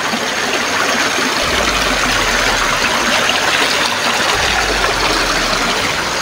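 A small river flows in a steady, dense rush of water, close and loud throughout, with a low rumble rising underneath at times and no voices.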